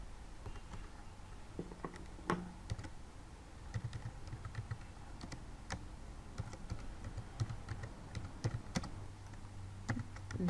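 Someone types text on a computer keyboard in uneven runs of soft, close clicks with short pauses, heavier key taps standing out now and then, and no voices over it.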